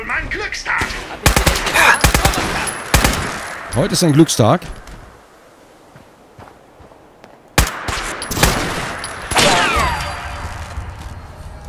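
Rapid bursts of gunfire in the video game Fallout 4, loud clustered shots, then a quiet lull before more volleys resume, with someone talking over the action.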